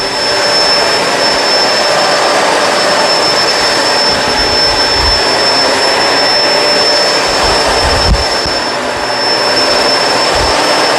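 A Kenmore Crossover Ultra whole-house vacuum cleaner runs with a loud, steady motor roar and a high whine, holding constant throughout with only slight shifts as it moves.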